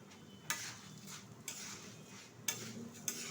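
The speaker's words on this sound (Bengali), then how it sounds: "চালটা কিন্তু ভালোভাবে ভাজা হয়ে গেছে" Minicate rice for khichuri gets stirred and fried in a pan with turmeric, with several sharp scraping strokes of a spoon against the metal over a faint background sizzle. The scrapes come at irregular intervals, close and fairly quiet.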